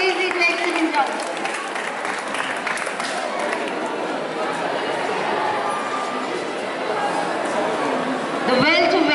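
A school hall audience gives a steady round of applause at a Class XII farewell blessing ceremony, the dense clapping mixed with crowd chatter and voices throughout.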